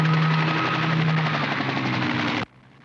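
A helicopter roars in a TV action scene over a Palm Springs golf course, a loud continuous rotor and engine drone with rapid pulsing that cuts off abruptly.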